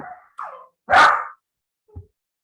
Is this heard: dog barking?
yes